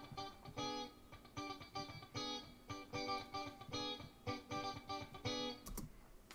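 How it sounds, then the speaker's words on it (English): A rhythmic motif on clean electric guitar, the theme from a prog-rock song, plays alone in short repeated bursts of chords with steady pulsing rhythm and clear gaps between phrases. "it's played on a clean guitar"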